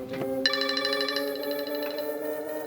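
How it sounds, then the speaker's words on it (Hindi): A phone ringtone plays in a hospital ICU, a bright repeating melodic tone sounding close and steady for nearly three seconds. "ये इस वक्त फोन क्यों कर रहा है?"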